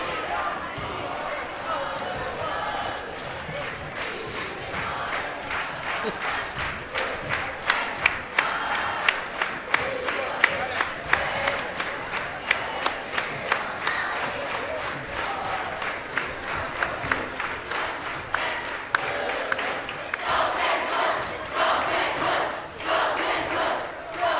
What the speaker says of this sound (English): They're singing the fight song.